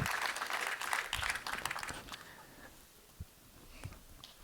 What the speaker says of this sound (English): big round of applause for our final speaker for the day